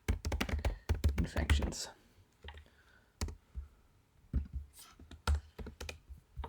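Fingers tap a computer keyboard in quick bursts while a file name is typed, close and crisp, with pauses between clusters of keystrokes and a person speaking briefly over them.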